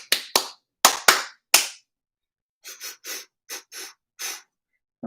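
Hand claps in a harder rhythm exercise: a loud, close group of five claps in an uneven pattern, then a softer run of six lighter claps after a short gap, with no voices.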